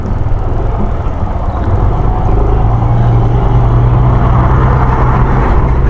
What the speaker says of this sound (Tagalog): Yan yung truck yata ang ginagawa dun sa ano, daan.